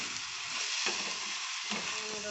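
Coconut and sugar stir-frying in a pan over a gas flame, with a steady sizzle and scraping stirring strokes that swell at intervals, close and moderately loud.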